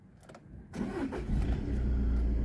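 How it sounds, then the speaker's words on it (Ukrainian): A Skoda Octavia A7 Greenline engine cranks briefly and catches, then settles into a steady, close idle hum. "Заводиться автомобіль"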